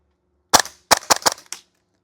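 A Double Eagle DWS Lupus gas airsoft rifle fires BBs on semi-auto: one sharp crack, a pause, then three quick snappy shots and a fourth, close and loud with no talk.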